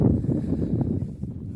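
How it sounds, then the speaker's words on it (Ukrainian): Steady, roaring gusty wind of about 6-8 metres per second buffets the microphone at a potato field, with low rumbling gusts that swell and ease throughout. "весь час вітер, такий потужний, метрів 6-8 на секунду десь"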